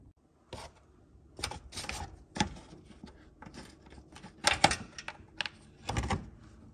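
Sparse metallic clicks and ratcheting rattles from a wrench loosening the 10mm bolts that hold the plastic under-cover on a P2 Volvo V70, with irregular bursts and short pauses between them, close and moderately loud.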